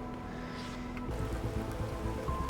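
Rain falling in a video game, a faint steady patter and hiss that continues evenly throughout, with a low rumble underneath and no talking.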